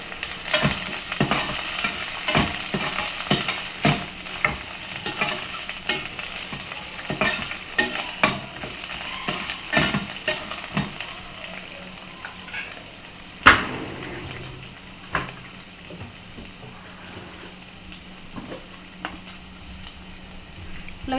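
Bay leaves, mint and coriander leaves fry in oil in a pot for Hyderabadi dum khichdi, with a steady close crackle and sizzle and rhythmic stirring taps, then a single sharp clank before it settles into a quieter sizzle.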